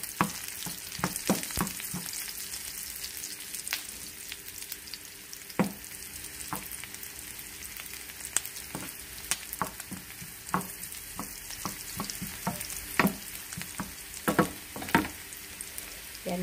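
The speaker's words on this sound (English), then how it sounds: "Pa-brown muna natin yung garlic." Garlic sizzles and browns in hot oil in a pan, a steady close crackle with scattered sharp pops and stirring scrapes throughout, with no voices.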